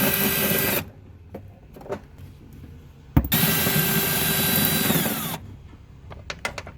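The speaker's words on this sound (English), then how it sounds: "we can use our 11mm socket and wrench to take out these three bolts" Three taillight bolts on a 2000-2007 Ford Taurus coming out with an 11mm socket and wrench, as two long loud bursts of mechanical whirring separated by lighter clicks and ratcheting taps.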